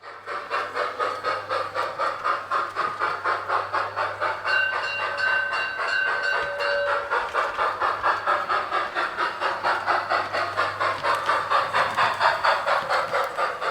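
Model narrow-gauge field railway train running in a large attic loft, a steady, rhythmic clickety-clack of wheels over rail joints with a low hum underneath, continuous and fairly close throughout.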